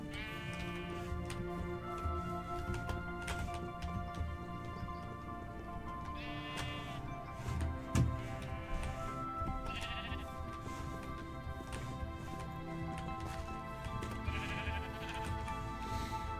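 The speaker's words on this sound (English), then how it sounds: "Just watching that sheep over there." A sheep bleats repeatedly in the Minecraft video game, several short bleats spread over a steady game soundtrack, with no talking.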